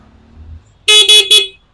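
A Jawa Perak 350 motorcycle horn sounds three close, loud, steady honks in a quick sequence, with a fourth starting at the very end.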